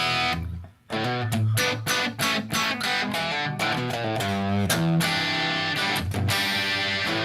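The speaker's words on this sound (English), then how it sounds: "Turn the echo off here. Just hear a clean sound." A clean electric guitar with brand new strings plays with the echo switched off, giving a loud run of sharply attacked strummed chords and picked notes with short gaps between them and no voice.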